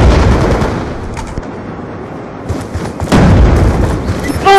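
A shooter video game plays gunfire and explosions, with booming shots and rapid bursts over a dense, loud mix and a voice talking over it.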